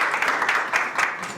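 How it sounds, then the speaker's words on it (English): A small group claps for volunteers at a backyard natural-dyeing chemistry demonstration, a brief spell of fairly close, moderately loud clapping with audible individual hand claps. "Can I have a round of applause for our volunteers?"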